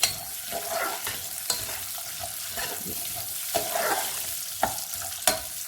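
Semolina for suji ka halwa roasting gently in a pan over a low flame, a steady soft sizzle broken by repeated scraping stirs and occasional sharp clicks of the spoon against the pan.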